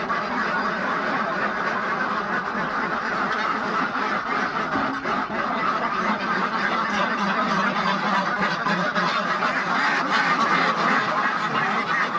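A flock of ducks quacks continuously and loudly, many overlapping calls close by with no pauses.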